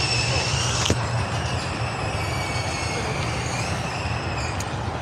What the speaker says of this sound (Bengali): ট্রেনটা চলে যাচ্ছে।